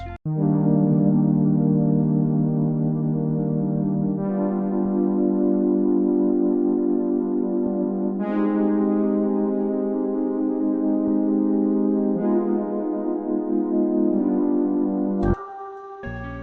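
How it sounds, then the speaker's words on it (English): A warm Prophet 6 analog synthesizer sustains rich chords, shifting to a new chord every few seconds in a slow progression, ending with a brief bright stab. "And I then play that in on the Prophet 6,"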